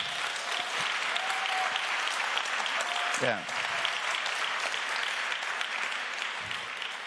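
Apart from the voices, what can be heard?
applause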